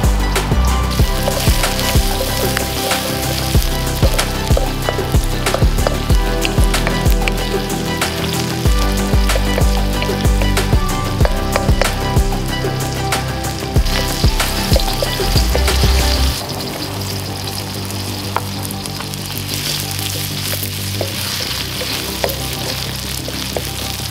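Food fries in a generous amount of oil in a wok over a rocket stove, giving a loud, dense, continuous sizzle that drops to a softer level partway through.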